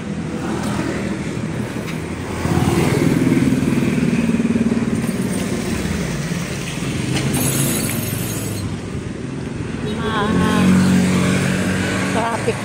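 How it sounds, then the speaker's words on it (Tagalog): Road traffic with passing motorcycles and cars on a street, heard while walking to a school; engine hum swells and fades over a steady roar, with people talking throughout. "Traffic na din dito."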